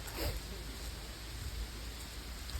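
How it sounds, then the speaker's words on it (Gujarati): Monsoon rain falls steadily at a zoological park, a dense, continuous hiss of downpour close by with no pauses or voices. "પછી એવું લાગે વરસાદ વધી ગયો છે થોડોક."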